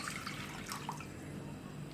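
Leftover water is poured into a pan on a lit stove, making a soft steady trickle with faint drips, close and quiet.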